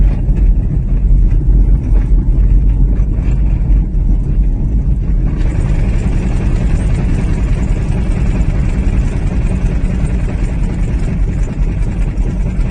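An electric car rolls over a bumpy, rocky gravel road, heard from inside as a continuous loud low rumble of tires and suspension, with no engine note and no voices.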